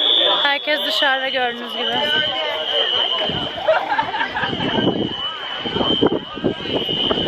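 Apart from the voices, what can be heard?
building fire alarm sounding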